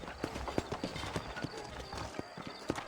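Horse hooves clip-clop at a steady walking pace through the Old West town of New Austin in Red Dead Redemption, with repeated crisp hoofbeats close by over a faint ambient bed.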